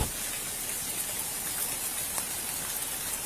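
Steady rain pours down on a night street in Shrewsbury Borough, New Jersey, an even close hiss with scattered drops and light splashes and no voices.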